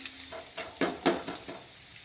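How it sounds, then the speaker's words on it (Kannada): Spices frying in a pan with chilli powder for a rice dish, faint sizzling punctuated by several soft clinks and stirring scrapes, no voices. "ಇದು ಗೋಲ್ಡನ್ ಕಲರ್ ಬರೋವರೆಗೂ ಫ್ರೈ ಆಗ್ತದೆ."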